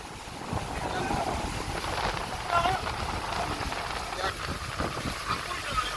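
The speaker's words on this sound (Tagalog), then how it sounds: "Malakas yung hangin tapos naglalakian po yung mga alon" Strong wind at sea roars and buffets the microphone over a dive boat's rumble, with big waves washing around during heavy rain; a voice speaks faintly underneath.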